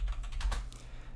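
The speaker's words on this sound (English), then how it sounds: "we're going to type in java" Quick, light keystrokes on a computer keyboard, a brief burst of several clicks close to the mic over a low steady hum, with no talking.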